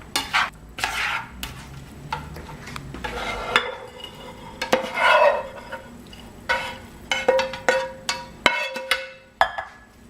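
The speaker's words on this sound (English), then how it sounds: "so Mom is adding the rest of the broth here" Leftover turkey stuffing is stirred with broth poured in, giving wet squelching scrapes and sharp clinks of a spoon against the pot in an irregular rhythm, close and clear.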